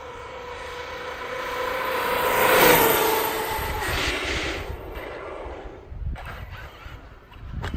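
An ARRMA Kraton 8S RC car on an 8S Venom 7000 mAh 50C LiPo pack speeds past. Its high electric whine swells to a peak and then fades away, leaving a rough rumble of tires over the ground.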